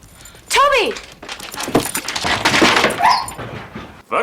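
Dog whimpering and yelping in a horror film, high wavering whines near the start followed by a dense mix of other film sounds.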